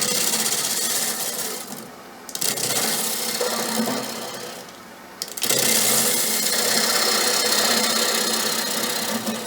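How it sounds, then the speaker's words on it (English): A 5/8 bowl gouge cuts into a natural-edge wood bowl spinning on a lathe, giving a loud, rough scraping roar in three long passes broken by two brief pauses. "I'm going to start out with my 5/8 bowl gouge and start taking some of the material away from the center"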